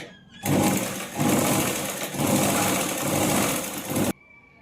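A sewing machine runs steadily while stitching blouse-piece fabric into a festival garment, a loud continuous motor whir with slight speed surges for about four seconds, stopping abruptly near the end.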